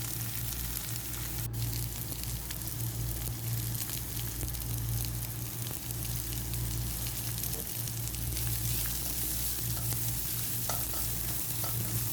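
Half a cup of chopped onion sizzles in a pan for tuna pasta, an unbroken moderate frying hiss with a low steady hum beneath it.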